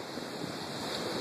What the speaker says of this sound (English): The waves are coming up.